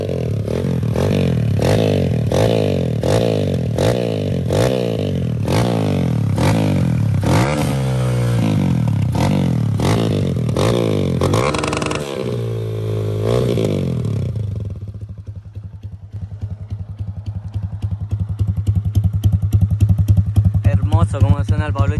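A Honda CG Titan motorcycle fitted with a 190cc kit and aftermarket exhaust turns over repeatedly in rapid cranking bursts, then settles into a close, loud, throbbing idle with throttle blips.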